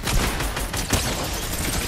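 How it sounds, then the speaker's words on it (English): A minigun in Fortnite fires a dense, continuous burst of rapid shots that fills a short, loud stretch, with no talk over it. "Oh, no, that's the minigun."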